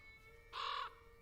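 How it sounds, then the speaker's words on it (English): A single short, harsh caw from a crow rings out once, fairly distant and faint against a quiet background. "No, definitely crows."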